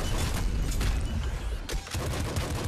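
Rapid golden pistol gunfire in Nuclear Throne, a dense run of sharp shots over booming low game effects, near and loud, with a brief lull midway.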